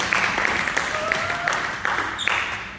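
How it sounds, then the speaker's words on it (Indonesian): A church congregation applauds during a New Year worship service, with dense, sustained clapping from many hands filling the room at a steady loud level, and a few faint voices and tones mixed underneath. "Beri tepuk tangan dulu dong."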